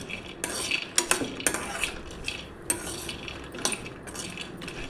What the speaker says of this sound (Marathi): छान असे तुपात भाजून घेत आहे